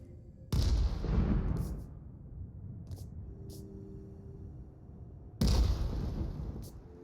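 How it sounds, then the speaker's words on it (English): Explosions in the video game Worlds Adrift: two sharp, loud booms about five seconds apart, each with a rumbling tail that fades slowly, plus a few faint distant pops in between. "Just can hear the explosions."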